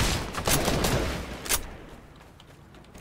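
Rapid bursts of automatic gunfire in a video game, loud and dense for the first half with a sharp crack near the middle, then trailing off into quieter reverberant echoes.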